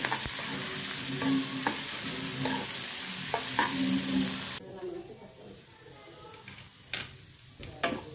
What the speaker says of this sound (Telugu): పచ్చిమిర్చి, కరివేపాకు, ఇది మంచిగా వేయించుకుందామండి